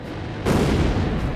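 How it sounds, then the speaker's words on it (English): A sudden heavy burst of gunfire in Ace Combat Zero kicks in partway through, sustained and dense with booming low-end rumble throughout. "I've been hit by gunfire"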